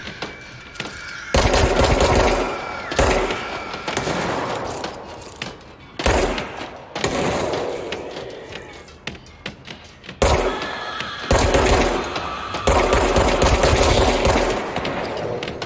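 Bursts of sniper and automatic gunfire in the video game Control come in several loud, dense volleys separated by short quieter gaps, with thuds and impacts mixed into the shooting.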